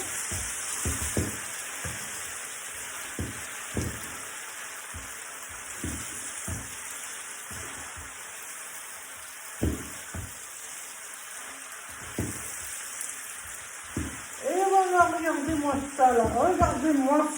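Pappardelle tossed with guanciale in a hot pan for carbonara, soft sizzling under repeated spoon scrapes and knocks, with a voice speaking briefly near the end.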